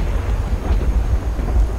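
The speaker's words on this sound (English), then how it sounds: "God, it's so stormy." A heavy thunderstorm in the video game Skyrim, with a continuous low rumble of thunder and steady rain hiss, loud and enveloping, with no voices.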